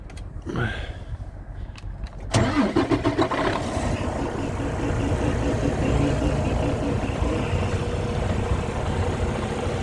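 A vehicle engine cranks briefly, catches with a few uneven bursts, and then settles into a steady, close idle rumble that continues to the end.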